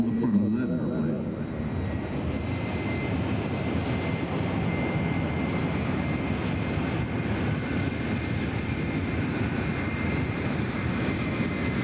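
Propeller airplane taxiing along an air show taxiway, a steady low engine drone holding at an even level throughout with no break.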